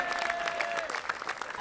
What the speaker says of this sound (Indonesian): Tepuk tangan dong sekali lagi buat Abe dong